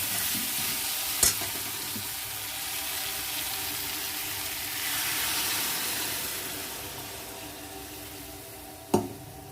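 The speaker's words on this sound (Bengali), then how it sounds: "দিয়ে আমি এবারে জল ঢেলে দেবো।" Water poured into a hot frying pan of salted, spiced food erupts into a sustained hissing sizzle that swells and fades, with a couple of sharp utensil knocks and no speech.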